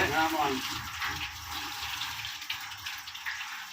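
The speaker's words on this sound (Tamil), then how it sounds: "தெளிவு வந்து ஊற்றுறோம்." Clear coconut sap poured into a large cauldron for making jaggery, a steady gushing splash of liquid close by, with a voice talking over it.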